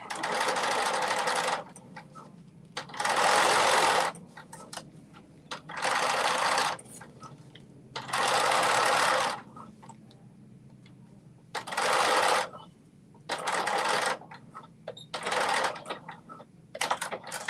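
A sewing machine stitching in bursts of a second or two, separated by short pauses, with its steady mechanical whir close and clear throughout.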